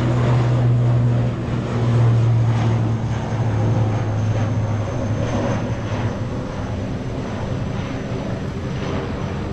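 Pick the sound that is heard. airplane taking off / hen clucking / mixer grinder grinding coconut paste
airplane taking off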